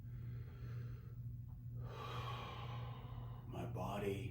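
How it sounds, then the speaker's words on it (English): A slow, deep breath drawn in and released close to the microphone, soft and airy over a low steady hum, ending in a louder exhale. "I'm gonna start focusing on my breathing,"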